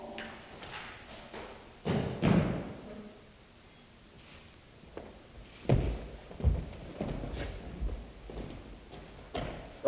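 Rifle butts thud on the ground during ceremonial rifle drill at a Vietnam veterans ceremony, scattered dull knocks and a few sharper group impacts spread across the moment, moderately close with quiet gaps between them.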